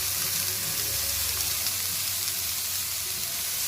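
Raw banana (aratikaya) slices frying in hot oil, giving a steady, close, dense sizzle with no pauses and no voices.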